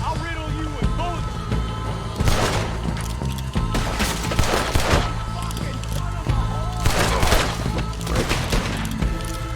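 Gunfire in the Western video game Red Dead Redemption 2, with several loud bursts of shots and booms recurring across the scene over a steady game soundscape.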